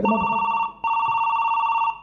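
A mobile phone rings during a Chhattisgarhi Nacha Gammat folk comedy stage performance, a steady electronic ringtone with bright sustained tones, briefly breaking off and resuming, loud and close, with a voice at the start.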